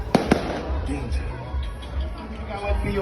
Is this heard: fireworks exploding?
yes